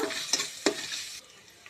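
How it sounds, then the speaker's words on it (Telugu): Ginger frying in oil in a pan for chicken pulao, a brief close sizzle with two quick stirring scrapes, the hiss dropping off near the end. "అల్లము నూనెలో మంచిగా ఫ్రై అయిన తర్వాత"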